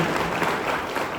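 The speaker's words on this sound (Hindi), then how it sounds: "सर आज आपने आपका अमूल्य समय दिया, इसके लिए मैं चाहूँगा एक बार सबके लिए जोरदार तालियां" A room full of people breaks into dense, loud applause, the clapping steady and continuous for a brief moment.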